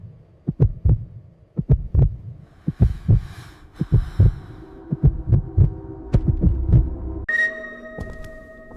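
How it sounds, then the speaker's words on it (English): A heartbeat sound effect in the quiet of total silence, a steady run of low double thumps, close and clear, with a faint hum building beneath toward the end. "Within minutes, you begin to hear your own heartbeat."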